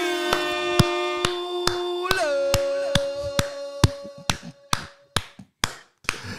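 A man clapping: a slow, steady run of sharp hand claps that quickens toward the end, heard over a sustained tone that fades partway through.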